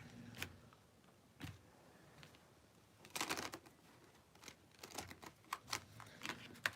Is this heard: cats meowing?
no